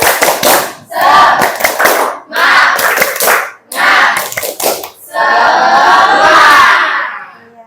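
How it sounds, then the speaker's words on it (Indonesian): A class of tenth-grade students in Indonesia performs the 'tepuk semangat' chant, with loud group shouting and bursts of rhythmic clapping in several phrases, ending in a longer sustained cheer. "Gimana tepuk semangatnya?"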